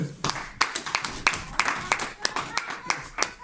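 A church congregation claps loudly and rhythmically in praise of the Lord, sharp claps repeating at a quick, even pace with voices mixed underneath.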